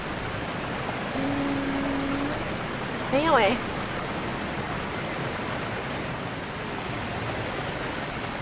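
A video game waterfall pours as a steady, broad rushing roar throughout, with a brief voice and a short tonal game sound over it.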